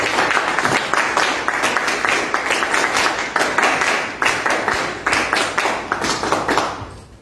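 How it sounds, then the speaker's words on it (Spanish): A studio audience applauds invited guests on a Peruvian political discussion programme, with loud, close, steady clapping in a quick regular beat that carries on for several seconds before dropping away at the end. "Yo quiero pedirles un aplauso para Fernando Lindo y para los"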